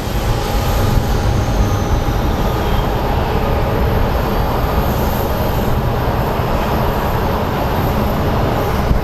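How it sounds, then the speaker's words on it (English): Airport luggage train rolling past near the runways at Phoenix Sky Harbor International Airport, a loud, steady rumbling drone that holds constant throughout with broadband noise and no talking. "it's a luggage train"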